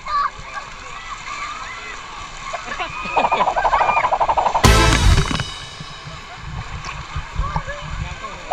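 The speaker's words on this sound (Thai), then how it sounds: "พี่พัดลงน้ำเบามากเลยตัวเบา" Person splashing into a pool at the bottom of a water slide, a sudden loud splash mid-clip amid children's voices and excited chatter around the water.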